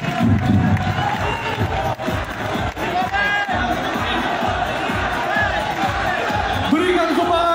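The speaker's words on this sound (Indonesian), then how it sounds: "Tepuk tangan untuk Mas Don." A lively crowd at a combat-sport fight event applauds and cheers for a fighter, loud, dense clapping mixed with shouts and whoops, with an announcer talking over it.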